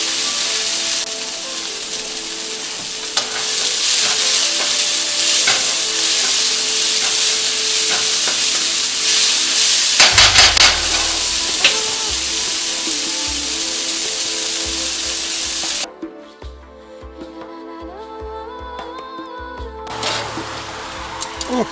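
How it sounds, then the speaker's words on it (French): Shallots browning in a hot pan, a loud close sizzle that holds steady for about sixteen seconds before dropping away sharply, with a few stirring clatters along the way. "On va faire dorer vraiment nos échalotes."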